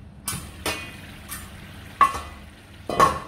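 A pot of beef tomato stew frying in oil is stirred, giving a few separate scrapes and clinks of a spoon against the pot over a low background sizzle, spaced roughly a second apart.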